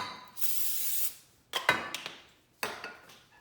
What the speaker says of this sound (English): This is the baking dish. Spray some oil spray.